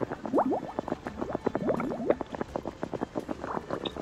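Water poured in the medieval survival game Life is Feudal, a wet bubbling gurgle with rapid splashy pulses running steadily through the clip at moderate loudness, with no talk over it.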